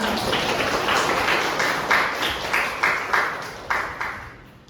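Applause from an audience at a student presidential and vice-presidential candidate debate, a steady wash of many hands clapping that fades toward the end, with a few sharper bursts standing out.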